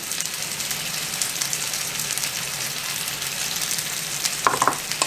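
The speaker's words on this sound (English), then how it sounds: "And let all that flavor cook into those pears and onions as those pears cook down" Pears and onions for a pear chutney, dusted with ginger and cardamom, sizzle steadily in a pan, a constant close frying hiss with a few louder spoon clinks near the end.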